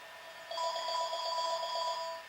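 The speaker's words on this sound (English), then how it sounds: "The telephone is ringing." A telephone bell rings in a steady trilling burst lasting about a second and a half, clear and close, with no voices.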